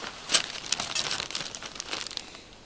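Plastic bags crinkle and rustle close by in a run of irregular sharp crackles, loudest early on and gradually thinning out, with no speech.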